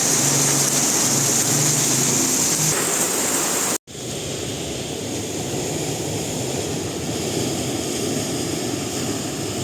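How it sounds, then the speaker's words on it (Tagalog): Steady, dense roar of heavy rain pouring down close by, broken by a brief cut near the middle before the downpour continues just as loud. "Yung lakas ng ulan dito, oh."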